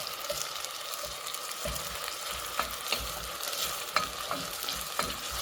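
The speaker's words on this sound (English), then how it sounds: "So we have our onions here now. Our onions cooking." Onions fry in a hot pan with a continuous close sizzle and crackle, broken by occasional soft knocks of stirring.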